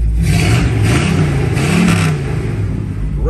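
A 1960 Chevrolet Bel Air with a 3.23 rear gear revving, its engine roaring loud and close with a rising and falling throttle swell, the exhaust rumbling steadily underneath.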